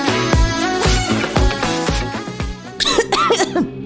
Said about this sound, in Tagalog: Ubo, plemang nakabara